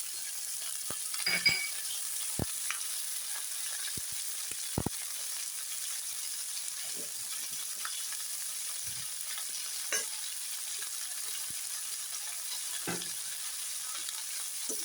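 Shallots, drumsticks, tomato, okra and green chillies sauté in a pan for sambar with a quiet, steady sizzle. Occasional soft clicks and scrapes of stirring come through, with no voices.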